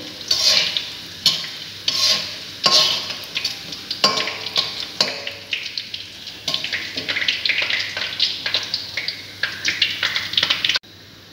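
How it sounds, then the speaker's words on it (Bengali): Whole cumin seeds and dried red chillies frying in hot oil in a pan for a chicken dish, with a steady close sizzle broken by repeated scraping stirs through the whole stretch before it cuts off abruptly. "গোটা জিরে একটু বেশি দিচ্ছি, এগুলো ভেজে পেস্ট করব"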